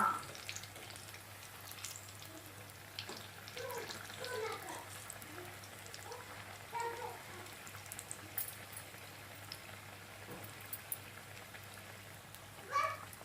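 Green chillies coated in besan fry in hot oil with a soft, steady crackle and faint spatters, fairly quiet throughout.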